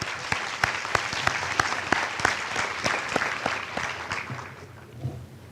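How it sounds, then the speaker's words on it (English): An audience at a high school early college graduation ceremony claps for the graduating class, crisp individual claps standing out in a sustained round of applause that gradually fades toward the end. "Let's give them a round of applause"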